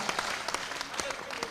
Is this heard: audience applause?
yes